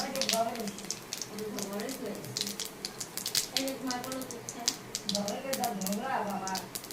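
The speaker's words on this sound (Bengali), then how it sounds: "এরপরে দেবো আমি একটু জিরা ফোড়ন তেলের পরে" Cumin seeds sizzle and pop in hot oil in a pan used to fry rohu fish, a dense crackle of sharp spits throughout while someone talks over it nearby.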